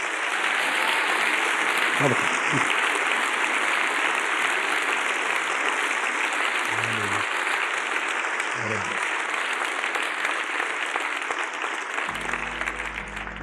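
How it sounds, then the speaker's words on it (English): A church congregation claps for Jesus at the close of a Jesse Duplantis sermon, with sustained dense hand clapping that fills the space evenly for over ten seconds. A few low murmurs come through underneath. "Give Jesus a hand clap."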